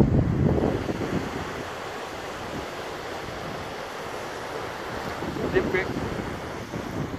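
Water rushes over a creek spillway in a steady, loud broadband roar, with wind buffeting the microphone and no talking.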